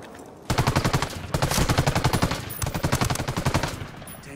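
Rapid automatic gunfire in Ghost Recon Wildlands cracks out in steady, evenly spaced bursts, loud and close. There is a brief pause after the first burst, then the firing continues for about four seconds.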